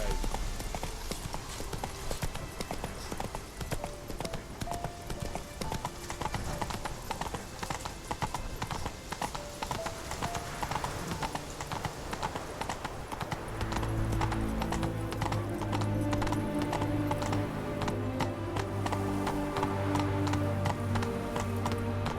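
Roach, a horse in The Witcher 3 video game, trots with steady rhythmic hoof clip-clops close by, the beat continuing throughout as music swells underneath in the second half.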